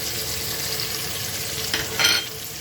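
A ground mixed-spice blend roasting in a pan for masoor dal and rice khichdi gives a steady close sizzle, with two brief brighter crackling bursts toward the end and no voices.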